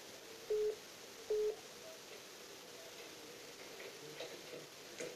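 Telephone busy signal: two short, faint electronic tones about a second apart, then only low background noise.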